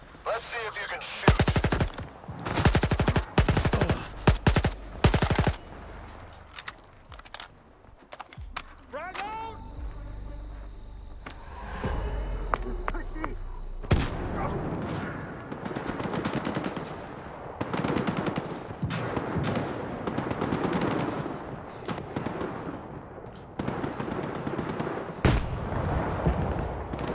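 Automatic rifle fire and heavy bursts from the video game Stalker 2 rattle out in loud volleys and scattered shots, with booming impacts, continuing across most of the stretch.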